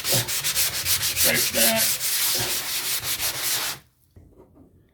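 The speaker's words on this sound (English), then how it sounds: "now I sand it" Hand sanding a drywall patch with quick back-and-forth rubbing strokes, loud and close, running steadily for almost four seconds before stopping abruptly into near silence.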